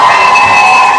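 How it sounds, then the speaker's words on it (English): A live audience cheers and claps for a performer, a loud, brief wash of crowd noise with shouting and whoops dominating over scattered clapping. "let's give her a round of applause."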